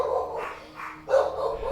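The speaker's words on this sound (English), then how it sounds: "Silly dogs, you're not supposed to bark at people just for breathing." Dogs give a few short, muffled barks from a room away, moderately faint, with a slightly louder final bark.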